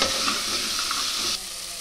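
Makhana, potato and peanuts fry in a pan with spices, village-style home cooking: a steady, close, broadband sizzle with faint stirring scrapes that drops to a quieter hiss near the end.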